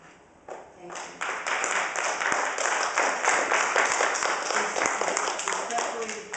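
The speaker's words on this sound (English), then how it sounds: "I will have to ask you to refrain from the clapping or the cheering or whatever" An audience at a council meeting breaks into steady, sustained clapping after a brief quiet start, the applause holding at a moderate, roomy level throughout.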